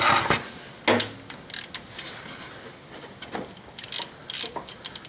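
Short bursts of ratchet clicking come from a 17 mm socket loosening the oil drain plug on a 2008 Honda 500 Foreman, close and crisp, with small metallic taps between the strokes.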